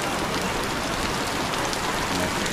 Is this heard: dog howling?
no